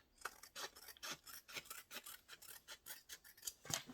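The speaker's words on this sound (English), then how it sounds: "Use your scissors and cut it down." Scissors snip through fabric while a diaper bag pattern is cut out, a steady run of about a dozen crisp, close cuts in quick rhythm with no talking.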